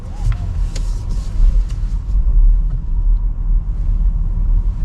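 A GAC AION V electric car drives slowly through a tight turning circle, giving a steady low rumble of tyres and road noise with a few faint ticks and clicks, and no voices.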